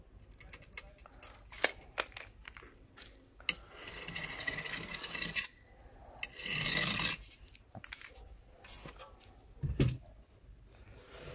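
Hand-sawing a basalt mineral wool slab: quiet, uneven rasping strokes with scattered scrapes and a few louder pulls, close by, no talk.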